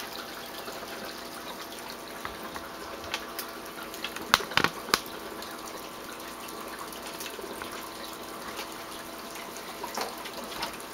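Steady, fairly quiet water flow in a sink as a pool filter screen is cleaned, with a few brief clatters and splashes midway.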